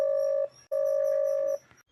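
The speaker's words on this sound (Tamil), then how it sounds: "ரிங் போகுது. பிளாக் பண்ணல." A phone call ringback tone sounds as two steady electronic beeps, the first short and the second longer, separated by a brief gap, clear and alone without talk.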